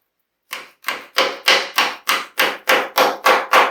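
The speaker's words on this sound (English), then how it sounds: "hammer it into place" Nine sharp, evenly spaced hammer blows drive a nail into the wooden frame of a Wegner CH-25 lounge chair during Danish cord seat weaving, close and loud with no talking.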